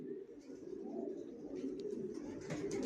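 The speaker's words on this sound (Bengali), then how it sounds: "আমার লফটে সব একই লাইনের কবুতর" Racing pigeons of a Johnson long-distance line in a loft, soft repeated cooing over a constant low background hum, with a few faint higher chirps near the end.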